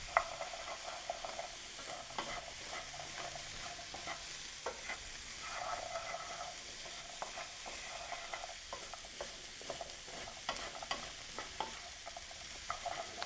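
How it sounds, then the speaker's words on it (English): Cauliflower, carrots and potatoes get stirred into a curried chicken stew, giving a steady sizzle with soft, frequent scraping and shuffling that is close and fairly quiet, with no one talking. "Now we're going to add the cauliflower and the carrots. And the potatoes. Give that all a stir."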